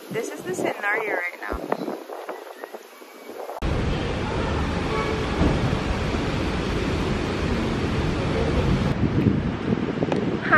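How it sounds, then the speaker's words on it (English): A voice speaks briefly over quiet background at night, then strong wind roars into a Canon G7X camera microphone as a loud, continuous low rumble that persists to the end. "So it's the nighttime now. It's still very windy."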